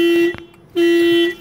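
A car alarm sounds in two loud, steady electronic tones, close by, with a brief gap between them.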